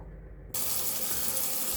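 A cold kitchen tap suddenly switches on and sprays steadily onto mason bee cocoons being rinsed during a bee-cottage cleanout, a continuous rushing splash after a brief quiet start.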